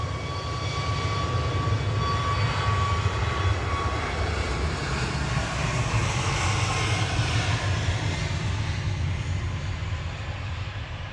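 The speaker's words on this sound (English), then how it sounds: "That was Tui on the roll just in the background." A TUI jet airliner on its takeoff roll at Manchester Airport sends out a loud, continuous engine roar with a deep low rumble. The roar stays steady and sustained throughout, with no speech.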